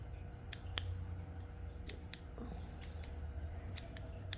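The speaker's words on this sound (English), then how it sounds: "I'm just snipping all that away." Scissors snip close to the microphone while grooming a Yorkshire terrier, giving sharp, quiet metallic clicks in irregular bursts over a low background hum.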